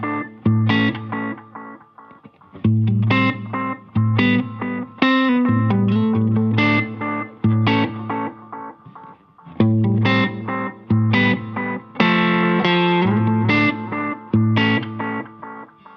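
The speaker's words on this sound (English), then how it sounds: "The next one is the Dog, which is their own The Doctor delay pedal built in here." Electric guitar runs through the Wampler Metaverse delay pedal in its The Doctor delay mode, played as loud, chopped chords and picked notes whose repeats trail off between phrases.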